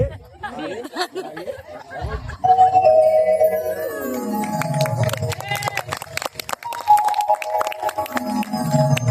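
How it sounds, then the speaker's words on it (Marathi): A theatre's third bell, rung before a Marathi stage show, sounds in two long ringing strikes that slowly decay, set against lively chatter and laughter from people nearby. "आज तिसरी घंटा मी देणार"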